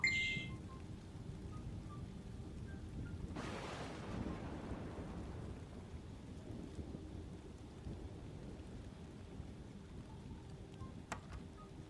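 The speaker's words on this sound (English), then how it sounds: "Even that noise of lightning is enough to make someone feel exhausted." Thunder rumbles in the Crowalt: Traces of the Lost Colony game, a loud roll building a few seconds in and fading slowly over steady rain and stormy noise, with no talking.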